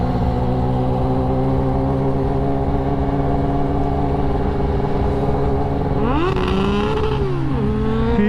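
A Honda Super 4 motorcycle engine runs loud and close with a steady idle, then revs up sharply near the end before settling back down.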